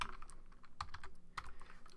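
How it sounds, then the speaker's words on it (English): Keys clack on a computer keyboard while text is entered into an image editor, a short burst of close, uneven taps with a couple of sharper strikes, no voices. "type in happy, enter key, holidays"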